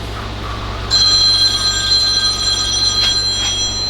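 A telephone rings in a knife-making finish shop, a bright electronic trill that starts abruptly after a moment of quiet room hum and carries on steadily, fairly close and loud.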